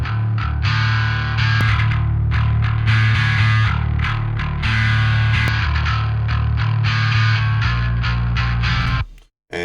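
Bass guitar run through the Neural DSP Archetype Mateus Asato plugin with its EQ switched off, giving a thick, distorted tone that plays continuously and loud for about nine seconds before cutting off abruptly.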